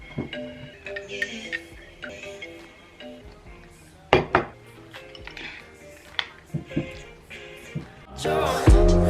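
A spoon clinks against a bowl of yogurt with raspberries and granola, giving scattered sharp taps and scrapes, some louder, spread across a steady bed of background music.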